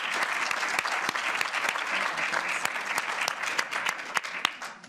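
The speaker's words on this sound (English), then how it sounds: "can we get one more round of applause for our wonderful speakers?" An indoor audience at a talk on personal activism for a threatened planet gives a round of applause, with dense steady clapping and some distinct nearby claps, fading toward the end.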